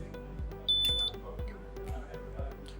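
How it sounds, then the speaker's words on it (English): An ART and GWK tool tracking system gives a single short, faint electronic beep over a steady low mechanical thumping from a pick-and-place work setup. "So you might have heard the beep."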